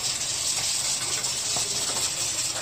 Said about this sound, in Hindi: अरे इधर कुकर चल रहा है